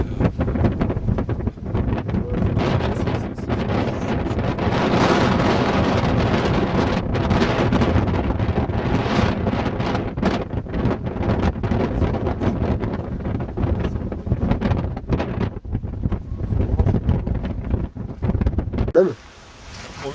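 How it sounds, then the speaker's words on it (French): Powerful wind of 50 to 60 knots in the Andes of Ecuador roars and buffets the microphone for a long stretch, with gusting surges and a brief drop near the end. "Il y a un putain de vent"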